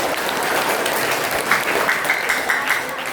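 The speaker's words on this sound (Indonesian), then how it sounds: "Tepuk tangan." Applause from an audience at a school Isra Mi'raj commemoration, steady clapping that continues for a few seconds with no clear break.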